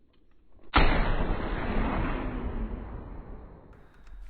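A single .308 Wolfsbane pistol shot fired at a bison in theHunter, one sharp loud crack followed by a long rolling echo that slowly fades across open terrain.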